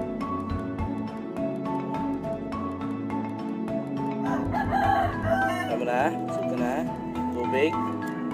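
Roosters crow repeatedly against constant music and chatter, the drawn-out cock-a-doodle calls rising above the background in the second half.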